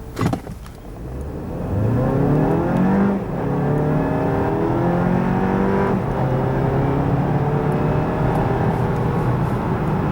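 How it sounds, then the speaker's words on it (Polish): A 2022 Jeep Compass 4xe plug-in hybrid with a 1.3-litre 240 hp powertrain accelerates hard from standstill to 100 km/h, its engine note climbing steadily and dropping at two gear changes amid constant cabin drone. "Zestaw ten gwarantuje takie przyspieszenie od 0 do setki."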